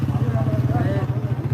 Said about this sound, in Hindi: कोई बाइक्स पे आ रहा है